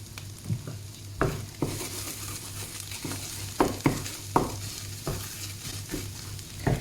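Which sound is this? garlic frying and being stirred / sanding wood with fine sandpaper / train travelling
garlic frying and being stirred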